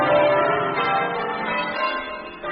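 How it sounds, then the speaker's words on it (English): A church bell rings with a sustained, rich metallic resonance, its overlapping tones swelling and slowly decaying without voices. "Ring the bell by all means"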